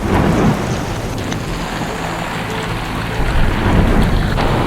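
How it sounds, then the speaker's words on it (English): Steady heavy rain with a low rumble of thunder rolling underneath, continuous and loud, on a sailboat in northern Costa Rica. "Thunder's getting closer and closer."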